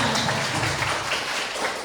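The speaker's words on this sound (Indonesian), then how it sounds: "Bagus luar biasa tepuk tangan." Classroom of pupils breaking into applause during a lesson, a dense, steady patter of many hands clapping together throughout, fairly close and even in loudness.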